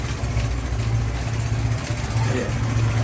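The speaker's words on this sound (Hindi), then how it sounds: "एक बाइक उधर से आई है, दो बाइक एट अ टाइम इधर से गुजर नहीं सकते।" A motorbike engine chugs through a narrow lane in a poor part of Islamabad, a close, steady low throb that hums on throughout.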